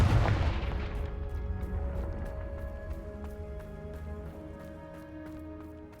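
A Confringo blast spell explodes in the video game Hogwarts Legacy, a loud booming burst at the start that rolls off into a long ringing, shimmering decay over sustained tones.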